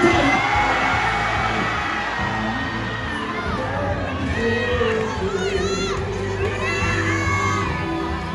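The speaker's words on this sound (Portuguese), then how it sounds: "solta um grito de glória do tamanho da vitória." A church congregation at a family worship service erupts in a loud shout of glory, with many voices yelling, whooping and cheering together in a sustained, echoing roar that rises and falls over several seconds.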